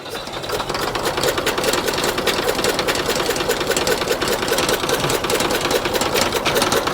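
An old Ford tractor engine runs rough without ether, a loud, fast, uneven chugging with rattling knocks that stays close and continuous, with no talking over it.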